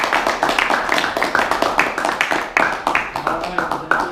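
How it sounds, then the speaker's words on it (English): Warm applause from a student Toastmaster speakathon audience for a speaker, a steady patter of many hands clapping up close with rhythmic bursts throughout, continuing without a break. "let's give a warm round of applause to Melissa"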